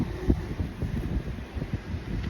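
Soft wind gusting against the microphone in low, uneven buffets, fairly quiet with no voices.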